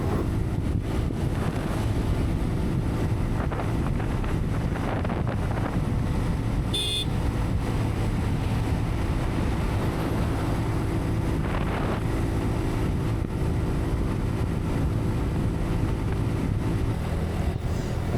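Car driving slowly along a road toward Akkalkot, a steady low engine and road rumble with wind buffeting the microphone throughout, no speech.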